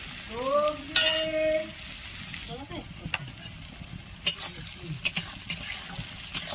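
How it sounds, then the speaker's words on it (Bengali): Sattu fries and sizzles steadily in a pan for a Bengali-style dish, with occasional stirring scrapes up close and a voice speaking briefly. "ভালো করে একদম লাল করে ভেজে নেব।"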